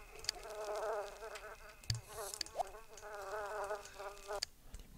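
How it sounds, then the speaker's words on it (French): In The Sims video game, fly buzzing rises in two long wavering bursts, broken by sharp clicks and a brief game chirp, faint but clear, with no talking. "Les mouches sont revenues."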